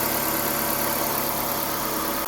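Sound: Chevrolet Spark M300 engine started and idling

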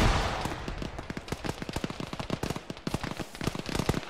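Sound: heavy gunfire in the video game Arma (ShackTac)

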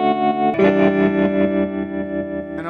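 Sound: guitar through small overdriven amp with old-fashioned amp tremolo

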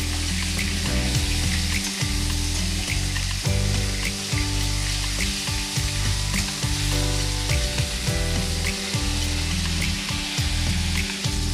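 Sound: fish heads frying in oil

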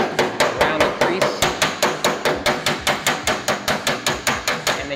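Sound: hammer striking metal panel over a dolly

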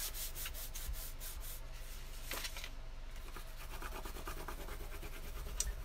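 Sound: burnishing paper down to stick it, notepad holder craft

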